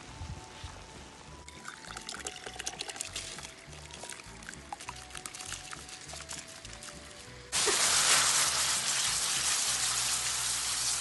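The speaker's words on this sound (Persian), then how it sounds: "آبم جوش اومده و باید الان برنج رو بهش اضافه کنم" Rice poured into a pot of boiling water makes a dense, hissing rush of grains and bubbling. A louder, steadier burst of splashing follows partway through, close and continuous.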